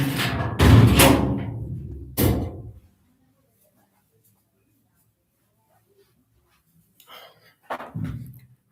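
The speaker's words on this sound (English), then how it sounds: "Let me just close the door." A door in a room is shut: a loud thump follows a short burst of voice, then a long silence before faint rustling and another dull knock near the end.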